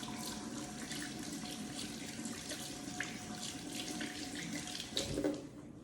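Hands are washed under a running tap at a sink before starting an IV; a steady, close water stream splashes continuously throughout, with a brief louder splash near the end and no talking.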